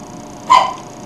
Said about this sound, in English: Yeah, that's a dog. Small dog.